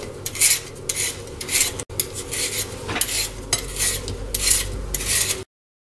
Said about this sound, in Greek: Πρώτα καθαρίζουμε την πατάτα.